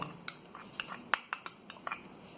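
A spoon clinks and taps against a bowl while milk is stirred with yogurt culture for mishti doi, a handful of sharp, irregular metallic clinks, fairly quiet and close, with no talking.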